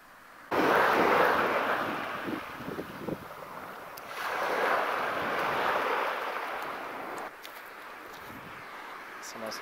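Waves wash in and draw back on an empty Porthcurnick beach in Cornwall, in two broad surges with gusty wind buffeting the microphone.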